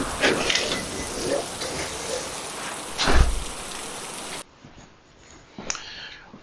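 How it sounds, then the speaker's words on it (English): Heavy rain pours steadily outside, a dense close hiss of drops on surfaces with a few louder splashes, then softens abruptly into a quieter patter. "The weatherman said nothing about raining cats and dogs."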